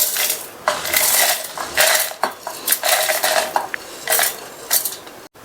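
Repeated clattering and scraping of utensils as ingredients are tipped into a mixer jar, with bursts of tipping and shaking, fairly close, no talking.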